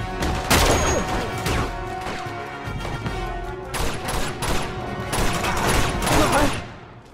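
Bursts of gunfire crackle in the PS4 action game Uncharted 2: Among Thieves, rapid volleys in several loud clusters separated by short lulls, with game ambience between.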